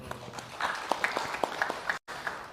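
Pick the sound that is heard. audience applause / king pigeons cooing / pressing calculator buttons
audience applause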